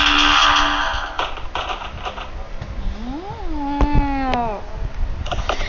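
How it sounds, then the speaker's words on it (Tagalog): A cat lets out a few drawn-out meows, rising and falling in pitch, over a faint background hum. "Ayun yung pusa ha. Yung pusa."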